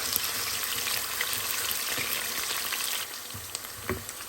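Onions frying in heated oil hiss with a steady, dense sizzle, punctuated by a few brief stirring clicks and knocks near the end, with no voices.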